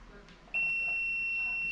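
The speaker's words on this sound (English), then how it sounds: "So if one of the wires here beeps, it's the correct one." A continuity tester on a wire gives a steady high-pitched electronic tone that starts abruptly and holds continuously, close and clear, after a moment of faint background noise.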